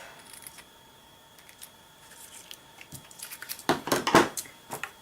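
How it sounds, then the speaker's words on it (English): Scissors snipping ribbon for a music-themed Christmas ornament, with a few faint early clicks and then two or three crisp, close cuts near the end. "I'm just going to cut that off."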